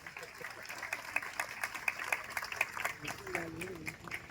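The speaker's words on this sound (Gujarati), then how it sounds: "તાળીઓથી વધાવીએ." A crowd applauds at a felicitation ceremony, giving a dense, steady patter of clapping from many hands at a moderate distance, with a voice speaking over it toward the end.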